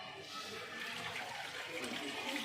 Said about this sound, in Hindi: ये अब हाथ धो लेंगे।